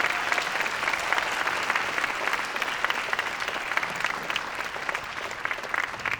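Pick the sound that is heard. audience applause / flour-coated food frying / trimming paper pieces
audience applause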